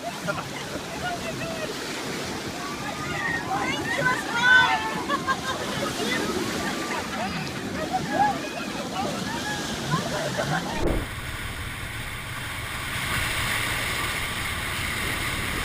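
Churning wake waves from a large ship surge and slosh continuously near a waterfront, a loud broadband rush that cuts abruptly to a steadier, quieter wash partway through.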